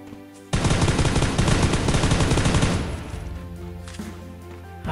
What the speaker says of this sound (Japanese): さっきの銃声。